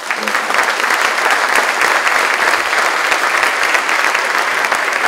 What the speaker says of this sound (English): let's give a round of applause for all 4 boards